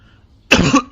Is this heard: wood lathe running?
no